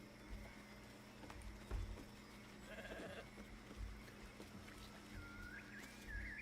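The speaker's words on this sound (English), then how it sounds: "The sheep's voice warbles." A warbling sheep bleat from the video game Baldur's Gate 3, heard in short wavering calls over a steady low game ambience, with faint background tones and no speech.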